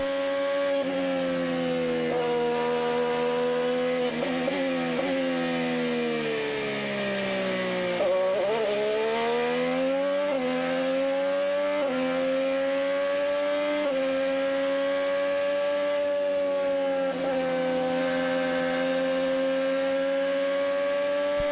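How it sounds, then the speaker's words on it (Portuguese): A Chevrolet IndyCar engine races around Mid-Ohio, a high-pitched screaming whine held at steady revs with several dips and climbs as gears shift, loud and continuous throughout with no talk over it. "Você sentindo aí a saúde do motor Chevrolet do Hélio"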